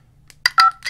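Keypad tones sound from keys pressed on a MiniVision phone, a few short electronic beeps in quick succession, loud and close, with the second tone held slightly longer.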